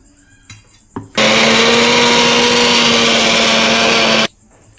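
A mixer grinder blends onion, garlic cloves and coriander into a paste: a loud, steady whirring roar that runs for about three seconds, then stops abruptly, with faint kitchen handling sounds before it.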